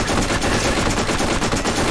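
Rapid, loud automatic gunfire from a weapon in the video game Borderlands, a dense continuous stream of shots with no pauses.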